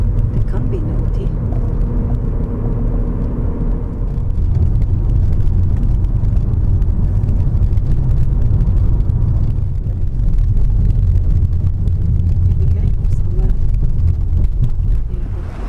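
Steady low rumble of a car driving, heard from inside the cabin, continuous and fairly loud throughout with a slight rise in level partway through; a voice speaks over it.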